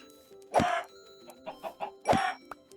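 Chickens in the Minecraft video game cluck in two distinct, fairly loud bursts about a second and a half apart, with softer short clucks between them and no talking.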